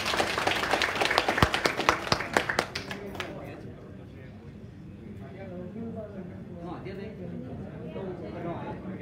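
A burst of audience applause and clapping at an international conference in Hanoi for about three seconds, fading out as a voice begins talking over a quieter room.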